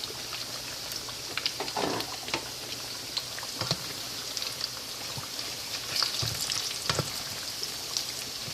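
Quiet, steady crackle of banana pieces in their second frying in oil, dotted with scattered soft pops and spits throughout.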